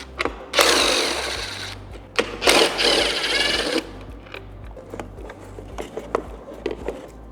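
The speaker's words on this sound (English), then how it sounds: "Last, we're going to remove these 2 screws." Screws being backed out of a Harley-Davidson CVO headlight with a powered driver, two loud whirring bursts near the start, followed by lighter taps and handling clicks, close up with no talk.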